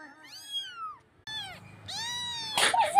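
A kitten gives several high, clear meows in short bursts with brief gaps, close and fairly loud, ending in a louder scuffle or rustle.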